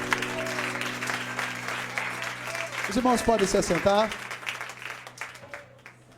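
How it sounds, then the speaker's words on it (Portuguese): Church congregation applauding during a worship service, a steady mass of clapping that swells and then fades out, with someone speaking over it near the end. "aplauda Ele nessa noite"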